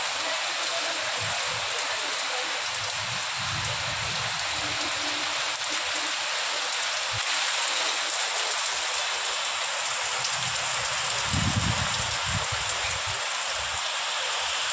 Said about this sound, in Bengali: দেখো বৃষ্টি আরম্ভ হয়েছে